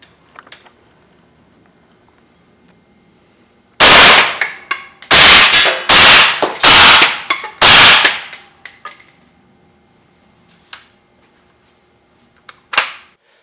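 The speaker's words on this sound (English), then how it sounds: "now we're going to do 5 rounds of M855 penetrators out of a suppressed Tavor" Five sharp suppressed shots of M855 penetrator rounds from a Tavor rifle striking an AR500 steel armor plate, a quick loud volley with ringing impacts, followed by a few faint clinks afterward.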